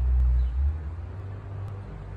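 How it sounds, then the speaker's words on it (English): A car passes outdoors, a low rumble swelling near the start and fading into steady wind noise, with no voices. "I hear a car"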